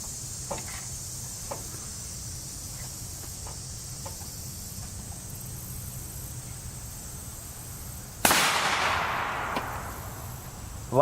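A single loud rifle shot from an M855A1 round fired at a Militech NIJ IV aluminum oxide armor plate at a range, a sharp crack with a long decaying tail, following faint scattered clicks and steady background hiss.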